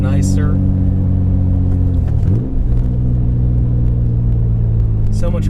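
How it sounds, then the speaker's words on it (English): Mitsubishi Pajero engine with a new full exhaust and throttle body mod, a deep steady rumble that dips then swells as the throttle is blipped, heard close, with a person talking over it. "That exhaust is so much beefier than it used to be."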